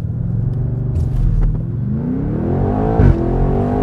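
A 2020 BMW M8 Competition Cabriolet with a twin-turbo V8 doing a launch control start in winter: a loud, close engine rumble that rises in pitch as it revs and accelerates, with a brief sharp burst near the end.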